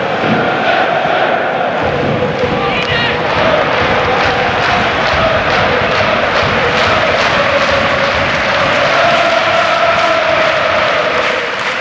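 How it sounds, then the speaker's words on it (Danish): FC Copenhagen supporters in Parken stadium during a match against Djurgårdens IF, a steady massed roar of the crowd with rhythmic chanting rising and falling, loud and continuous, heard from a distance across the ground. "I øjeblikket så er det altså FC Københavns tilskuere, man kan høre mest af."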